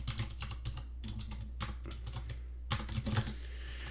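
Code is typed on a computer keyboard in steady bursts of close, crisp key clicks with short pauses, all without talk.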